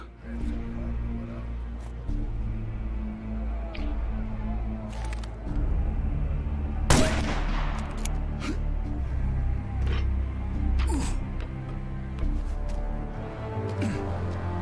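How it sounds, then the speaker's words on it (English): A single sharp gunshot shooting out a light in Assassin's Creed Chronicles: Russia, a brief crack about halfway through over a low ambient game rumble. "Shooting out that light would get his attention."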